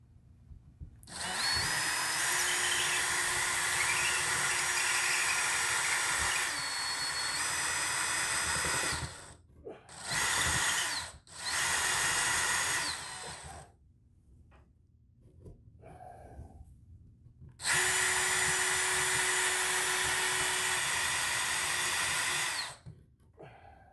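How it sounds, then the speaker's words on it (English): A power drill bores and widens a hole in a ceiling for an Ethernet cable, whining loudly in long sustained bursts with short pauses and a couple of brief stops between runs. "I used the same drill to carve out a larger hole that would fit the end of the Ethernet cable."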